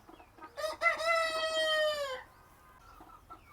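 A country rooster crows once, a loud drawn-out call lasting over a second, preceded by a few short clucks in an otherwise quiet setting on a poultry farm.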